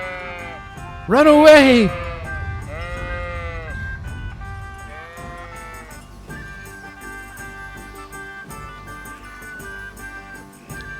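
In Kingdom Come: Deliverance, a sheep lets out a loud, close wavering bleat, followed by fainter bleats over soft game music and a brief spoken voice.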